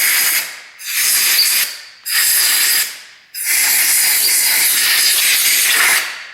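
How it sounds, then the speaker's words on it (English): A compressed air blowgun blasts across the engine of a 2015-2017 Yamaha YZF-R1 in a shop, four loud, close bursts of rushing hiss with short gaps between them and no talking. "I like to grab a blowgun, because we do have a compressor here in the shop."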